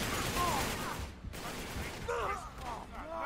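Gunfire in the video game Uncharted 3, bursts of shots crackling over a busy game soundscape with overlapping background noise.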